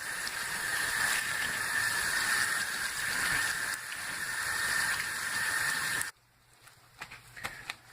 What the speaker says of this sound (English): I'm going to add a little bit more water. It may get a little noisy